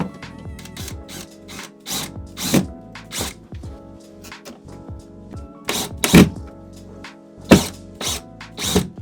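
A power drill driving screws into a ceiling mount for a 3D-printed tripod holder, sounding in short, separate whirring bursts with clunks and pauses between them.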